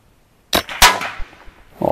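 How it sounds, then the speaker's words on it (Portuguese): One sharp crack from a PCP Tiger air rifle firing a pellet, loud and close, with a brief metallic ring and decay after the shot. "Vou fazer um disparo de referência."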